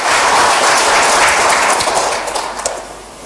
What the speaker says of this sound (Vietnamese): Hãy vỗ tay cảm tạ Đức Chúa Trời.